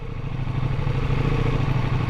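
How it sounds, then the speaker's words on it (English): A 2024 Ducati Multistrada V4 S Grand Tour with its superbike-style V4 engine runs in urban mode at low revs, a steady, throbbing mechanical drone with a fast pulsing rhythm, close and fairly loud. "And yes, it is a V4 kind of similar to a superbike engine."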